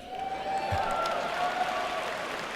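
A graduation audience at a commencement ceremony applauding and cheering, a continuous wash of clapping and crowd noise heard at a distance, with a faint sustained tone running underneath.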